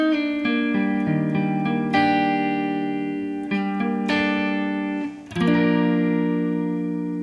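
Electric guitar playing the layered high part of a song, bright sustained chiming notes with effects and reverb, changing roughly every second, with a slide near the end, played alone.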